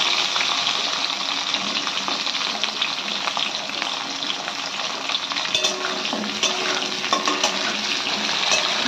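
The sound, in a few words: frying drumstick and papaya in a pan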